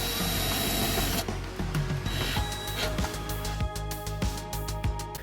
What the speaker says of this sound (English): do the final tighten with my drill